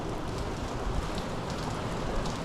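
Torrential typhoon rain pours steadily on the streets of Rua Direita Carlos Eugénio in Taipa, Macau, a loud dense hiss with constant splashing and no let-up.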